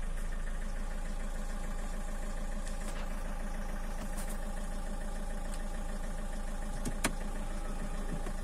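A Citroën C4 Picasso engine idles steadily with an accessory belt fault, giving a constant low hum with a faint whirring, ticking layer on top. A single sharp click stands out near the end.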